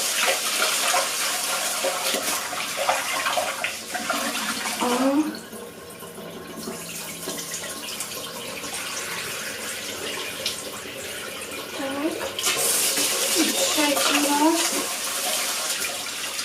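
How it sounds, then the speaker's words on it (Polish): Rice is rinsed in cold water in a kitchen. Water splashes and sloshes continuously and loudly for the whole stretch, with a short quieter pause partway through. "I już płuczemy w zimnej wodzie. Dwa, trzy razy przepłukamy ryż."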